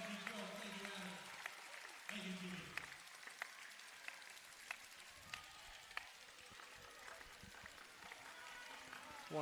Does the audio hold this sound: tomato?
no